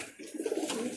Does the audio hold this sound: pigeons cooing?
yes